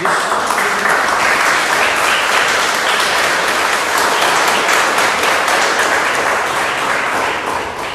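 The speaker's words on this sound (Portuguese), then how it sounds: "Pode aplaudir Jesus." A church congregation applauds loudly and steadily, a dense, sustained roar of many hands clapping together that fills the room without letup.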